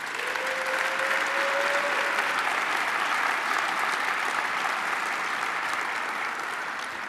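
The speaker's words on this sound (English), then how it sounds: "Let's give them a round of applause." An audience applauds steadily at a Hispanic Chamber of Commerce Foundation event honoring its Emerging Leaders graduates, a dense, even clapping that fills the whole stretch.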